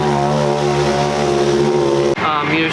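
Engine of a new Polaris RS1 running steadily during a track test day, with a loud droning buzz and strong harmonics close by, and a brief drop near the end before it carries on.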